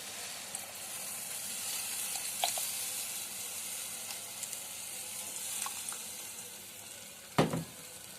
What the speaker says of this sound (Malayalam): ഇനി ഈ സമയത്ത് നമുക്കിതിലേക്ക് നമ്മൾ പുളിവെള്ളം ഒഴിച്ചു കൊടുക്കാം.